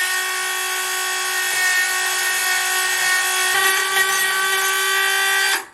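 A Dremel rotary tool grinds into ficus bonsai wood, a loud, steady high-pitched whine with dense harmonics running nearly six seconds without pause, slight grinding roughness as the bit bites, then cutting off abruptly at the end, with no voices.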